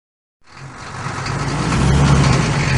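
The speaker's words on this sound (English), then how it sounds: "Jump on the table to avoid toy trucks." Toy trucks in a Curious George video game approach after a moment of silence, a rumbling engine-like drone that swells steadily louder as they draw near.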